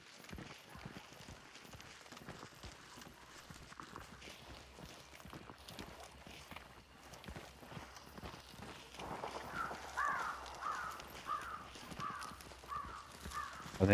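Crows caw in a Hunt: Showdown match, faint and distant at first, then a flurry of harsher calls rising later over soft in-game footsteps and movement.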